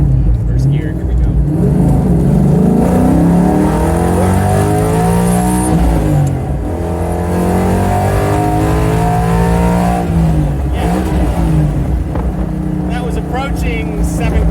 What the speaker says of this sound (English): I'm going to stop in the road here and get a nice launch.